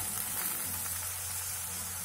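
Spring onions and onions fry in a pan for a curry, a soft even sizzle hissing steadily and quietly close by with no talk.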